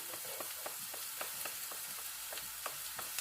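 Garlic sautéing with onions in a pan for ginisang sayote with giniling, a steady bright sizzle broken by regular soft scrapes of stirring, close and continuous with no talk.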